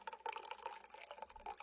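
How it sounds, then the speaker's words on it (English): Water is poured into the coolant tank of a Monport MEGA laser engraver, giving a soft, close, continuous trickle and splash with a faint ringing tone, and no one speaking. "And now we'll add the water."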